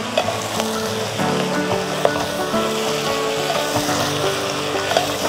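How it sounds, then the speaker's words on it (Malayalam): Washed chicken pieces stirred in a hot pan while cooking a Kerala-style chicken stew, a steady sizzle with scraping and stirring clatter running the whole way through, close and fairly loud. "ഇനി നന്നായിട്ടൊന്ന് ഇളക്കാം."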